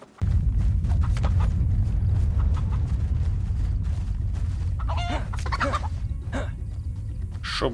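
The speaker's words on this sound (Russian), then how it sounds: "Пойду найду петуха." A rooster in the survival game DayZ clucks and calls in short bursts over a steady outdoor ambience, with a few brief crowing cries rising toward the end.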